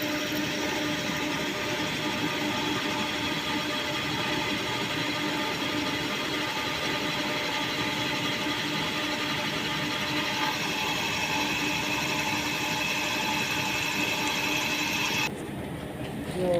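A lathe drills a hole in a 16 mm steel rod, giving a steady, loud mechanical hum and whine that drones on evenly and then drops off near the end, with no talk.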